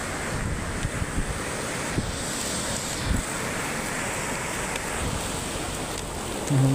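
Sea waves break on the shore at Puri beach in a continuous, washing roar, with wind buffeting the microphone throughout and a few brief thumps.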